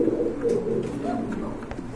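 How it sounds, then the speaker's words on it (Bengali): A light-coloured pair of Subhash Chandra breed pigeons coo nearby in soft, low, throaty murmurs repeating over a couple of seconds. "এক জোড়া সুভাষচন্দ্র কবুতর দেখতে পাচ্ছেন, এটা লাইট কালার, মাশাআল্লাহ খুবই সুন্দর কবুতর।"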